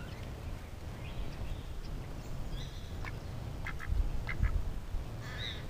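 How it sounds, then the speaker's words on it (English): Ducks quacking outdoors, a series of short, fairly close quacks in irregular bursts that grow busier toward the end, over steady low background rumble. "Come on, duck, duck, duck, duck, duck."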